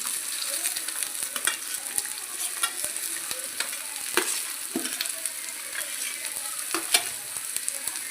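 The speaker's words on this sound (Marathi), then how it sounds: "तेल टाकलेलं आहे पॅनमध्ये त्यामध्ये हा कांदा टाकणार आहे" Onion frying in hot oil in a pan for a paneer curry, a continuous close sizzle broken by repeated sharp scrapes and clicks of stirring, with no talking.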